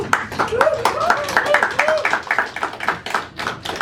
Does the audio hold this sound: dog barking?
no